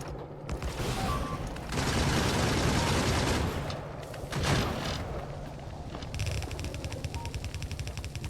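Gun turrets in Factorio rattle off sustained bursts of automatic fire at swarming biters on a hard-mode death world, dense crackling volleys broken by short pauses and mechanical clanks, loud and close.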